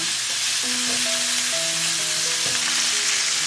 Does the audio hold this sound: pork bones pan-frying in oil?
yes